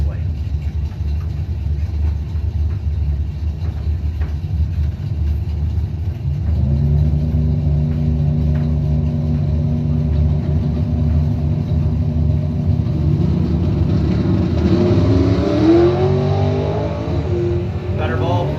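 A 1979 Trans Am and a 1972 Ford Maverick at a drag strip: low engine rumble idles, then rises into revving acceleration toward the end, with a commentator speaking throughout.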